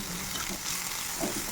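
Chopped onion and green chilli fry gently in a pan, giving a steady, soft sizzle that holds at an even level throughout, with no voices.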